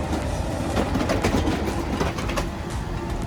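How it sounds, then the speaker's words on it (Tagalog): A train pulls into Stockholm station with a loud, continuous rumble and rhythmic clickety-clack of wheels over rail joints, close by and filling the scene without any talk. "Mandar na yung tren."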